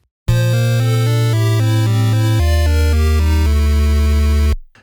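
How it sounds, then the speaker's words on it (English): Metroid's Item Found jingle, a loud chiptune video game fanfare of steady synthesized chords stepping through a short progression and landing on a held D major chord before cutting off. "Metroid's Item Found jingle is a more sophisticated version of the same concept"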